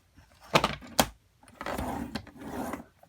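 Paper is scored with a tool for a gift box: two sharp scraping strokes, then longer rasping rubs, close and fairly quiet, with no voices.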